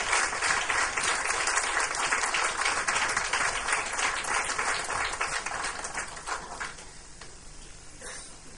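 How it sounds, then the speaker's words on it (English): An audience at a talk on the armies and democracies of India and Pakistan gives a hearty round of applause, dense clapping that stays strong for several seconds and then tapers off toward the end. "May I request you to please give them a hearty round of applause."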